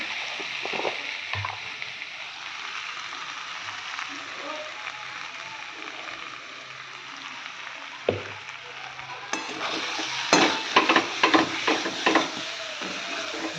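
Spices for a fish curry stir-frying in a home kitchen pan, a soft steady sizzle with occasional scrapes and clinks of a spatula, growing busier toward the end, with a voice speaking at times.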